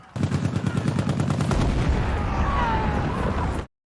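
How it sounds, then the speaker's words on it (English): A war film plays rapid gunfire followed by a heavy grenade blast. The dense bursts of shots give way to a long, rumbling explosion that fades to silence. "Sounded like an effective grenade."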